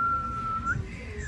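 A person whistles to imitate the whistling of a key: one long, steady, clear tone, then a short rising slide and a falling note, close and alone.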